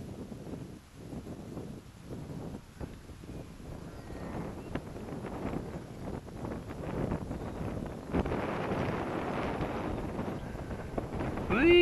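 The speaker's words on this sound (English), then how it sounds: "now we got some wind again" Wind gusts across the microphone on a hillside slope used for soaring a glider, a rough buffeting rumble that grows stronger and louder toward the end, with no voices.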